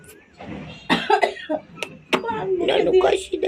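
A pet myna bird imitates a cough up close, giving several rough, hacking bursts in a loose sequence, mixed with chattering vocal sounds and nearby voices.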